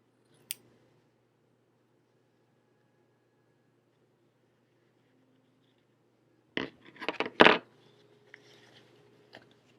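Scissors cut down the center of folded fabric for wide leg trousers, a short cluster of close, crisp snipping and crunching sounds following a lone click in an otherwise quiet room.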